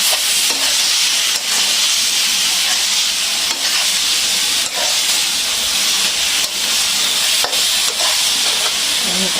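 Vegetables stir-frying in a hot pan, a loud continuous hiss and sizzle with frequent sharp stirring scrapes, heard up close and without speech.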